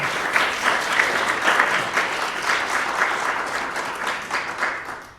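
Sustained audience applause welcomes author Eduardo Halfon to a reading and conversation, a dense, steady wash of many clapping hands that carries through without any talking before tapering off at the very end.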